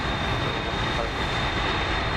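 Steady, loud roar of Airbus A380 airliner jet engines taxiing at Frankfurt airport in a flight simulator, a continuous broadband rumble with a faint high whine and no talk.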